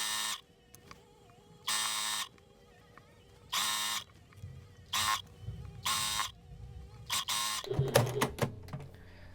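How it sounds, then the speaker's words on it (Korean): A sewing machine stitches the folded, rolled hem of a simple slip dress in several short bursts of high motor whir separated by quiet gaps, then fabric handling rustles at the end. "쭉 둘러서 박음질 해줘서 마무리 해주도록 하겠습니다"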